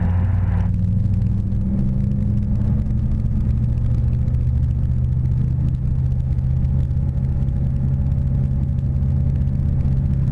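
Sling 2 light aircraft engine running up to 4,000 RPM on the ground before departure, a loud steady droning rumble with a constant low hum that holds at high power throughout, with no talk.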